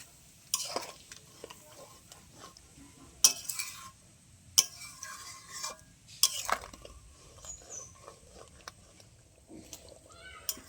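A spoon scrapes and clinks against a pan while ground garam masala is stirred into kalbosh fish curry, several sharp metallic knocks among softer scraping, fairly close, in an otherwise quiet kitchen.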